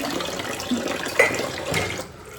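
Water runs from a tap while dishes are washed: a steady rushing stream with a few small clinks and splashes, moderately close, with no voices.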